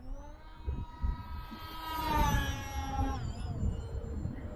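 A scratch-built FT Super Bee RC plane flies overhead with a high electric motor whine that rises and sweeps in pitch as it passes, steady and moderately loud against an outdoor background.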